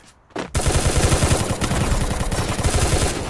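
Rapid automatic gunfire in a shooting video game erupts after a brief quiet moment, a dense, loud stream of close shots rattling on continuously with a few sharper cracks.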